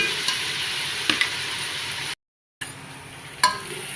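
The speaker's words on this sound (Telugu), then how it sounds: "అల్లం పేస్ట్ కూడా పచ్చివాసన పోయినంత వరకు ఎంపుకోవాలి" Ginger-garlic paste frying in hot oil, a steady close crackling sizzle with occasional clicks of stirring, briefly cut to silence before resuming.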